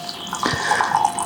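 Milk pours onto 70 grams of oats in a bowl, a brief close gurgling splash of liquid lasting about a second.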